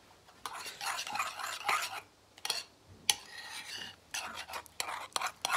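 Homemade slime with salt added is stirred in a bowl, giving soft wet squelching and scraping strokes in irregular bursts, fairly faint and close up.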